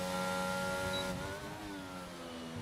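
A Formula 1 car in the F1 22 racing game at the Canadian Grand Prix accelerates out of a chicane, its engine a loud, steady, high-pitched whine that shifts in pitch partway through, with no voices.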